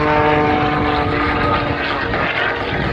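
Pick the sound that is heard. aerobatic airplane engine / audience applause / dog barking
aerobatic airplane engine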